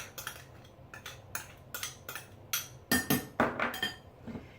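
Spoon or spatula clinking and scraping in a bowl while spinach, Parmesan, minced garlic and other crab dip ingredients are mixed, a quick run of about a dozen close, bright knocks, busier toward the end, with no talking.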